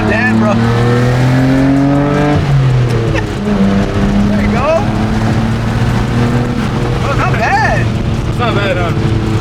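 A Nissan R33 Skyline GTR revved up toward 6,000 rpm, its engine note climbing in repeated rising sweeps, dipping briefly on a shift and pulling again, loud and close inside the car while people talk over it.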